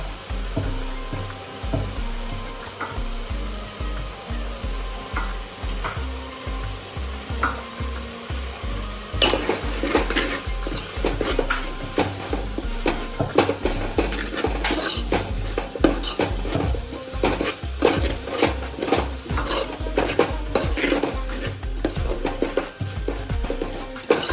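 Chilli powder and turmeric go into a pot of Gujarati tuver totha in a home kitchen, followed by continuous close sizzling and repeated metal spoon scrapes and clinks against the pot as the spices are stirred in.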